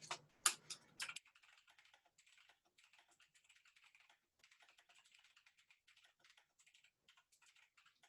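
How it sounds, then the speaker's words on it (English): Fast keys clacking on a computer keyboard come through as a soft, steady run of typing. A few louder thumps open it, then the light tapping carries on alone and close. "I want to type that up as well."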